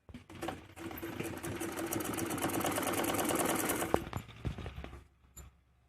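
A sewing machine stitching around the belt of a salwar, running in a fast steady whir for about four seconds before stopping, followed by a few light clicks.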